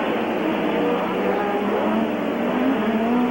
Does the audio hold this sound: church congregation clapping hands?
no